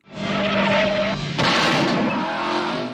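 In the film Phantasm II, a car skids during a chase, with a loud, sustained roar of engine and tires followed by a sharp burst like gunfire, then churning noise until the end.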